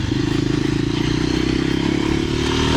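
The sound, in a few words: motorcycle engine rattling on a mountain ride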